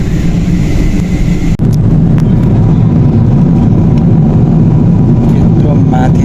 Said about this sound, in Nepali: अब चाहिँ टेक अफ भयो ब्रिटिस एयरवेज